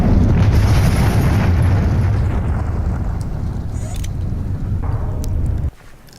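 Missile firing and blast from the Voltz mod in Minecraft, a loud sustained roaring rumble with a broad crackling burst that slowly decays, then cuts off sharply near the end.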